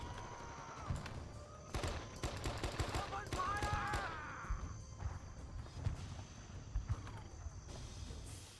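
An M60 machine gun fires in the Vietnam War video game Men of Valor, with repeated bursts of rapid shots amid a noisy combat backdrop, moderately loud and continuing through the clip.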